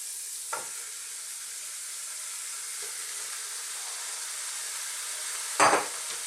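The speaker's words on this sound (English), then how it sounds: "Now I'm going to go with my chicken. The bone is in, the skin is on." A low, steady sizzle of bone-in, skin-on chicken frying in a pot, with a couple of faint clinks and a brief louder scrape near the end.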